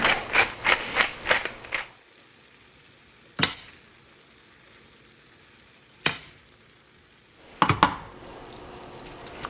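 A spoon stirs spicy basil chicken pasta with fresh pepper in a pan: a flurry of clattering scrapes at first, then three isolated scraping strokes spaced a couple of seconds apart over a quiet low hiss, with no talking.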